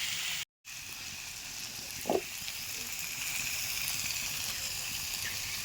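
Potatoes frying in a pan give a steady, close sizzle that runs the whole time, broken by a brief dropout near the start and a small clink partway through.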